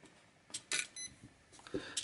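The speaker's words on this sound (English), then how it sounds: "you hear two beeps? That means it's a 2S LiPo" Two short electronic beeps from a Dromida 1/18 RC touring car's speed controller, signalling a 2S LiPo battery, sound a moment apart over quiet background, followed by small clicks and handling noise.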